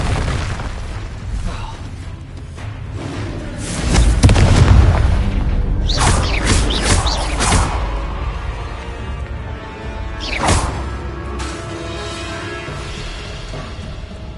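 Fiery blasts from the Confringo explosion spell in a Harry Potter-style video game on PS4, a few heavy booms with crackling bursts in quick succession, loud and close over game background noise.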